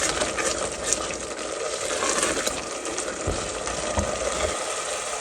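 Spices frying in a pan for chicken Sindhi biryani, a steady close crackling sizzle with a few soft stirring knocks throughout.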